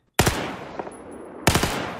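Gunfire in the video game Battlefield 4, two sharp loud bursts about a second apart with a few smaller shots between them, heard alone with no talk.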